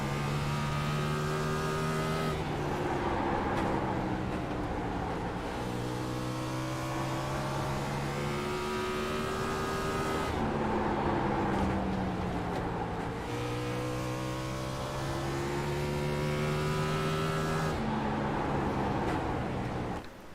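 An onboard race car engine from the No. 85 car in a sim racing game's Cup Series league race roars loudly and continuously, climbing in pitch through each gear and dropping at upshifts, repeating in cycles with no talk.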